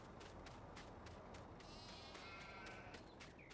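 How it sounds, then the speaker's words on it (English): Sheep bleating on a farm, several calls rising over a steady background hiss, moderately distant and not very loud. "Dennis has brought the sheep over"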